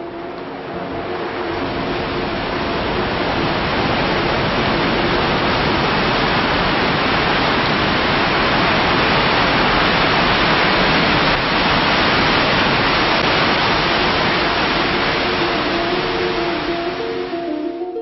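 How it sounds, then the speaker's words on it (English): Rhine Falls at Schaffhausen, Europe's biggest waterfall, gives a steady, loud, broadband roar of crashing water that fills the whole stretch without a break. "The Rhine Falls at Schaffhausen are an amazing sight. This is the biggest waterfall in Europe."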